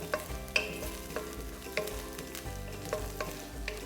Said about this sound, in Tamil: அந்த ஆனியன் வந்து கொஞ்சம் லைட்டாக சாட்டே ஆனோன்னே, கொஞ்சம் வதங்கினோன்னே நம்ம தேவையான கருவேப்பிலை ஒரு 5-6 போட்டுருவோம்